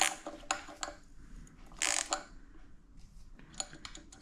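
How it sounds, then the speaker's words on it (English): A ratchet tightens the bolts on a Skunk2 throttle body fitted to a Honda K24 engine, producing quiet, irregular metallic clicks and short ratcheting bursts, close by with no talking. "I'm just gonna tighten these bolts."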